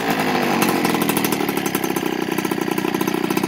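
A stock Peugeot 103 MVX moped with its original 14 carburettor revs hard, a loud, buzzy two-stroke drone with rapid high firing pulses holding at high revs close by, with no talking.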